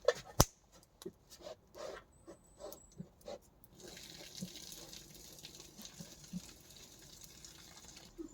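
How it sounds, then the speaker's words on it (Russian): Water drains out of a pot near a forest homestead: a series of uneven splashes and gurgles at first, then a steady, fairly quiet pouring stream. "надо слить воду и налить еще свежей"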